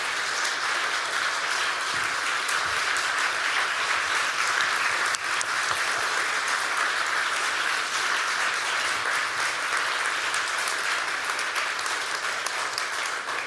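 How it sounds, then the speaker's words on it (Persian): Sustained, dense applause from an audience at a ceremony in Oslo honouring Narges Mohammadi, steady and even throughout with no voices rising above it. "a big applause"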